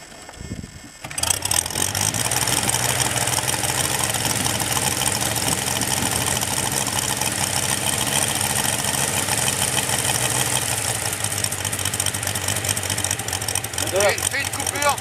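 An Arctic Cat Bearcat snowmobile engine, a Moki 215, starts and then idles steadily up close, a loud continuous rumble with people talking nearby.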